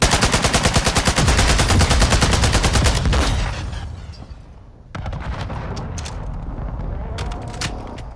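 Enemy gunfire in Call of Duty: Modern Warfare II: a loud, rapid automatic burst for about three seconds, then a brief lull followed by more scattered shots and battle noise, with a voice talking at times.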